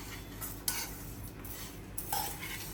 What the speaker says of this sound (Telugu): ఇట్లా మీడియం మంచిగా దూరగా వేపుకోవాలి అంతే